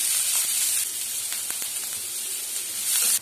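Mustard seeds, urad dal and onion hit hot oil in a pan for an okra podimas, making a loud continuous close sizzle and hiss with faint crackles and pops throughout.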